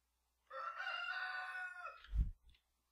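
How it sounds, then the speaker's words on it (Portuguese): A rooster crows from a video game, a drawn-out cock-a-doodle-doo of about a second and a half standing alone and fairly loud, followed by a short low thump. "Que galinha peluda!"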